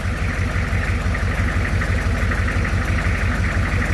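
An M1152 Humvee engine idles steadily with a low, even, throbbing rumble, close and unbroken, with no voices.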